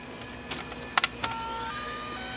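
Relay in a Ford Mark III car making a faint, steady high tone with a few light clicks and jingly metallic ticks, heard up close over a low background hum.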